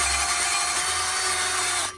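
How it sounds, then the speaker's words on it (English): A corded drill spinning a wire brush to scrub dirt and rust off the exhaust of a Honda MSX 125 Grom motorcycle, a steady high whirring scrape that runs continuously and cuts off at the end. "take my Roby drill, and it's got this wire brush on the end of it"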